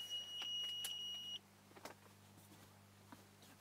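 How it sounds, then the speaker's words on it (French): A small alarm in a mushroom farm's incubation area gives off a steady high electronic tone that cuts off abruptly after about a second and a half, leaving a low mechanical hum with faint handling noises. "Je vais éteindre cette petite alarme."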